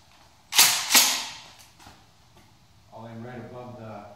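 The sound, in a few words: Mossberg Shockwave shotgun firing Fiocchi low recoil buckshot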